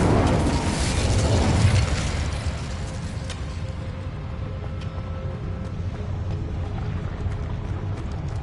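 Incendio fire spell cast in Hogwarts Legacy, a loud roaring whoosh of flame that bursts at the start and settles into a steady crackling rush for several seconds.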